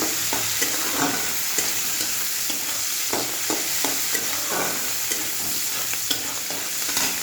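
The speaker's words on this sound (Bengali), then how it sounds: "দেখো ভাজা হয়ে গেছে চিংড়ি মাছটা।" Prawns fry in a pan with a steady, close sizzle, broken by repeated scraping and stirring strokes at an uneven rhythm.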